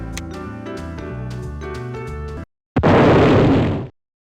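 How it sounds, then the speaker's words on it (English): In an early proof-of-concept build of The Sims, destroying an object sets off a sudden loud explosion burst lasting about a second, coming after a short gap that follows a few seconds of plinky game music. "Destroying something gives an explosion sound that caught me off guard the first time I did it"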